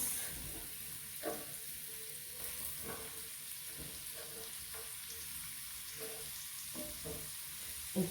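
Carrots stir-frying in hot oil with beef in a pan, a steady low sizzle throughout with repeated light scraping stirs at an even rhythm, with no voices.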